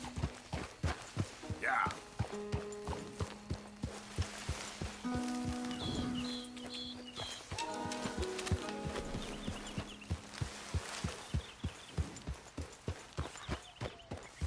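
Horse hooves clip-clop at a steady walking rhythm while riding in Red Dead Redemption 2, with an occasional brief whinny and a short spoken reply from a player over background music.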